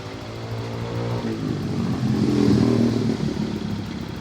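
Honda PCX 150 scooter engine, with a faulty battery that is not charging, idling nearby and then revved up smoothly to a held peak before easing back, and no talk.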